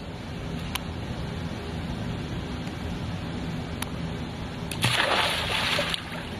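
A child swims and splashes in a pool, with steady watery wash throughout and a louder burst of splashing near the end, close by with no talking.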